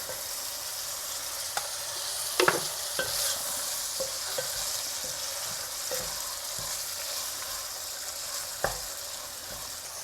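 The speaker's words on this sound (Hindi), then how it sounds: "नमक, काली मिर्च और कीमा और लहसुन, बस इन चीज़ों को अच्छे से आपने भून लेना है" Minced meat with garlic, salt and black pepper frying in a pan, a steady soft sizzle with a few sharp clinks and scrapes of stirring scattered through.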